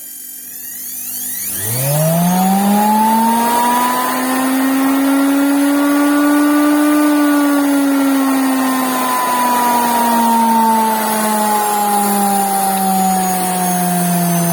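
An electric motor on a log splitter whirs up from rest and rises steadily in pitch, running loud and continuous as it spins faster, with no talking.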